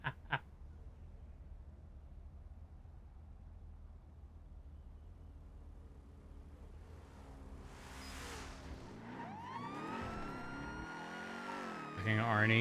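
A police car siren in the video game GTA (NoPixel roleplay), wailing sweeps rising and falling and growing louder toward the end, over steady engine noise with people talking.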